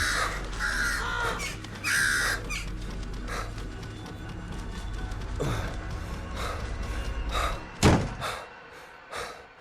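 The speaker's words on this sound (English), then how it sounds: "crows have become the worst" Crows caw harshly in the game Once Alive, several loud calls in bursts over a dark droning ambience, with a couple of heavy slam-like thuds late on.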